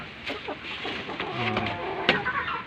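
Rhode Island chickens in a coop make scattered soft clucks and short calls at moderate distance, over a low, steady background murmur.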